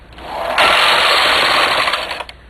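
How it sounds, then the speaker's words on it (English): A domestic knitting machine with a ribber attachment knits rows as the carriage sweeps across in one loud, continuous mechanical whir with a rattling texture, fading out at the end of the pass. "I'm going to knit a few rows and do that again"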